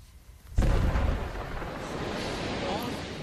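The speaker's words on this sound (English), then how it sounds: "Big explosion from 2 sticks." A big explosion from two sticks of explosive: a sudden loud boom with a heavy low-end burst that gives way to a long, rumbling roar and a sustained noisy wash, with no voices.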